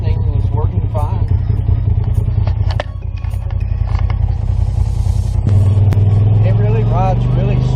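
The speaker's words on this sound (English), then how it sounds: "we're out here doing a little test drive with the RZR with some street tires on it" A Polaris RZR Turbo side-by-side on street tires drives along with a steady engine rumble and clatter, rising in a revving surge near the end, while someone talks over it.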